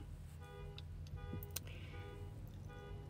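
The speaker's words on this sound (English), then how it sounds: "Somebody's car alarm is going off." A car alarm goes off somewhere nearby, its repeating electronic tone pulsing in short regular bursts at a faint, distant level under a steady background hum.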